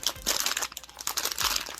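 Plastic Tokidoki blind box packaging crinkles and crunches loudly up close as it is torn open by hand, in rapid irregular bursts.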